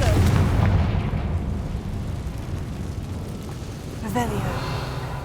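Confringo explosion spell cast in the video game Hogwarts Legacy: a heavy booming blast at the start that rolls off into a rumbling tail, with a second bright burst near the end and game sounds layered throughout.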